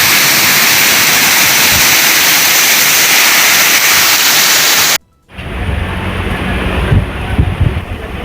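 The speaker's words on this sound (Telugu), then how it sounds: "హైదరాబాద్ లో తెల్లవారుజాము నుంచి వర్షం కురుస్తోంది." Heavy rain pours down over Hyderabad in a loud, unbroken roar for about five seconds, then a quieter stretch follows with rumbling and knocking underneath.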